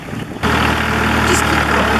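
A tractor engine runs in the woods during Japanese log riding, a loud steady low rumble with constant vibration that kicks in abruptly after a short quieter moment and stays close throughout.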